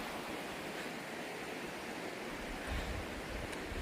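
The West Beaver River flows past a Superior Hiking Trail campsite as a steady, even rush of moving water that stays constant throughout with no voices.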